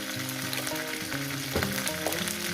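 Potatoes frying in a pan with salt in a Bengali home kitchen, a steady close sizzle and crackle running throughout with faint clinks of stirring, no voices.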